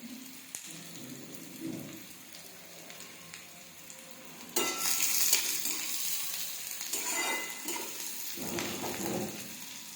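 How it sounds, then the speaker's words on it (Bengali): Onion fries in a pan with a steady sizzle, joined by bursts of louder crackling and scraping as it is stirred around the middle and near the end. "পেঁয়াজটা একটু ভাজা ভাজা হয়ে গেছে"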